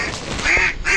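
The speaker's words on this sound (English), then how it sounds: "Y'all shoot this duck right here." Duck hunters in Arkansas hear a duck quacking nearby, a few loud, rasping quacks in quick succession with no talk over them.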